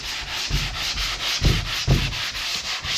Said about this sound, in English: the last step that I like to do is go ahead and grab the sanding block again